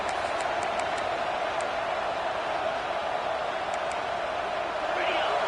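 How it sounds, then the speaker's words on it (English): Stadium crowd at an Ohio State vs Texas college football game, a steady, loud roar of cheering that fills the whole stretch without break. "It's early, but this crowd is fired up. Listen to this noise here."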